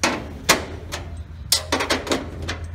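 Metal knocks and clacks ring out while locking bolts are undone on the lower adjuster of a livestock feeder trough: a few separate sharp hits, then a quick cluster of clanks, close and clear.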